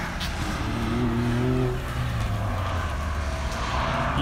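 An old air-cooled Porsche driving at an autocross event, its engine droning steadily at moderate distance with a rising and falling pitch as it passes.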